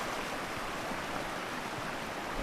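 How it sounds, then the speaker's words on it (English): River running through a forest in Black Canyon of the Gunnison National Park, heard as a steady, broad rush of flowing water that stays even and fairly soft throughout. "beautiful forest with a river behind us"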